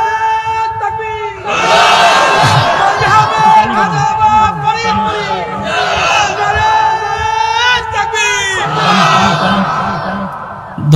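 A large crowd at a Bangla Islamic sermon gathering roars back a takbir chant in loud, sustained unison, with several surging waves of massed shouting filling the whole stretch.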